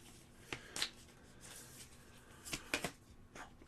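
A deck of playing cards is shuffled quietly during a tabletop role-playing game session, with soft riffling rustles and a few sharp snaps and clicks against a faint background hiss.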